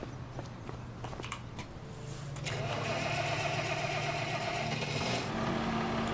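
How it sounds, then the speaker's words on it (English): A cold tractor engine cranks and catches, settling into a loud steady running rumble after a couple of seconds of ticking and clatter; nearby and alone, with no talk. "Cold starting tractor."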